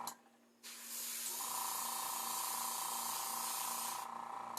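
Steady, loud airbrush hiss spraying paint onto a zombie kneecap prop, starting abruptly after a quiet moment and running continuously to the end.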